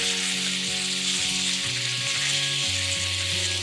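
Elk steak sizzles in a pan over high heat, a steady, close, loud frying hiss that stays constant throughout, with faint tonal hum underneath.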